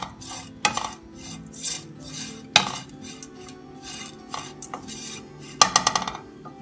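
Grated coconut being roasted for Kerala-style prawn theeyal is stirred in a pan, a spoon scraping and clinking against the metal in repeated bursts with a few sharper knocks, close and fairly quiet.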